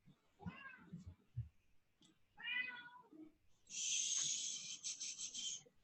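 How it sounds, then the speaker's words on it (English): A house cat meows indoors several times, short plaintive calls, then a longer drawn-out meow near the end, moderately close and alone without talk. "Is that your cats greeting everybody?"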